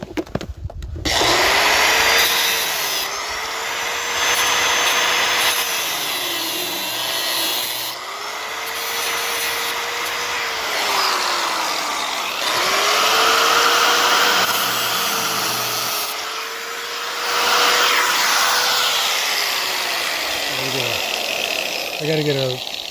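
Angle grinder with a cutting disc slicing through metal snowblower tubing, a loud, sustained whining grind in several long passes separated by brief pauses, with talking heard during the breaks.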